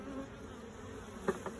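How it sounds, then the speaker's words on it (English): Honey bees buzzing at a beehive, a soft continuous hum with a brief louder buzz near the end, faint and close. "There's a bee right there making some honey."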